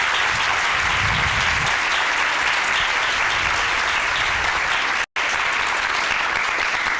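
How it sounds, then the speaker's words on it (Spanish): A conference audience at a journalism congress gives a long, steady round of applause, dense and even from start to finish with one brief dropout. "para quem eu peço uma salva de palmas"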